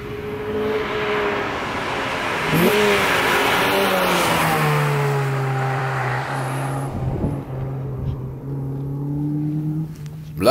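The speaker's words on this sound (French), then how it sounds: "une mécanique qui prend des tours avec rage" Honda Prelude VTi engine revving hard, pitch climbing steeply through the rev range, with a gear change partway through before it winds up again, loud and close, with no voices.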